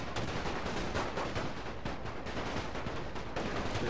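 Dense, continuous musket volleys from a Napoleon Total War battle with a Great War mod, crackling shots overlapping in a steady roar of massed gunfire with no pauses.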